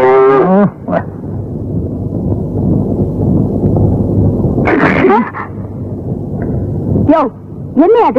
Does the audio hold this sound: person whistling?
no